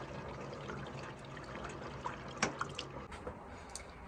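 Water running from a tap on a newly installed kitchen sink in a van, a soft trickle and splash, faint and close, with a few small clinks and drips.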